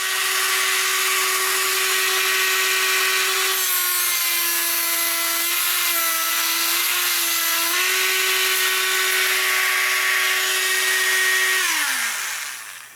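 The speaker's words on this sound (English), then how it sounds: "I got to do a little cleanup right there with a grinder" Angle grinder cleaning up a weld on the rear grab bar of a 1986 Honda motorcycle, a loud continuous high whine for about twelve seconds with slight pitch dips under load before spinning down at the end.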